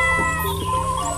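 A kitten meows in a short, close, fairly loud cry, pitched high and a little wavering, with no talk over it.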